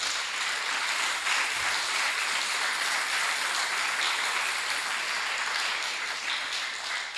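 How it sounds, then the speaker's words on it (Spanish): Congregation applauding in a church service, an even wash of many hands clapping steadily throughout, moderately loud and without talk. "Dale aplauso al que vive entonces"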